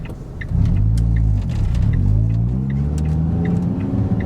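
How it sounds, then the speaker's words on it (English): A Ford Fiesta ST150 fitted with a Powerflex lower engine mount pulls away from a junction in first gear, its engine note rising loud and steady from a low idle rumble, with no talking. "we'll just do a pull out of this junction in a sec"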